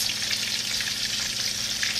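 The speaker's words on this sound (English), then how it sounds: "let's start frying first" Steady, dense sizzling of chicken frying in a cast iron pan, a continuous crackling hiss with no talking.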